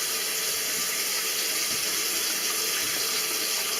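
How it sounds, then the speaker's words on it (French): Cold water runs steadily from a kitchen or bathroom tap into a sink, a continuous close rushing hiss with no voices. "On laisse couler. L'eau froide, hein, ça coûte moins cher."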